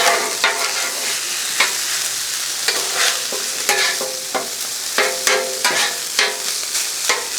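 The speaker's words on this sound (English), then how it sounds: "Now we want to give this a good mix up because we did add that garlic and we did add those the ginger." Spatula scraping and stirring pork fried rice with garlic and ginger on a Blackstone griddle, sharp metallic scrapes in uneven bursts over a steady close sizzle, no talk.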